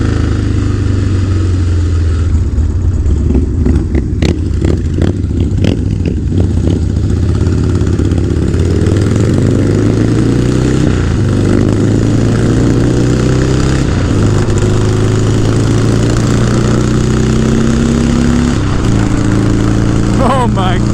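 Harley-Davidson Sportster motorcycle engine while riding, a steady low drone with rising and falling pitch as it shifts through gears, loud throughout with someone talking over it.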